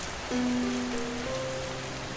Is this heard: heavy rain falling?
yes